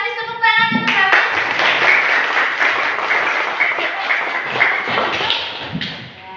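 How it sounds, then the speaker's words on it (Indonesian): Primary school classmates applaud a student after a presentation, a loud, dense burst of clapping that lasts several seconds, with faint children's voices underneath. "tepuk tangan untuk Hafiz"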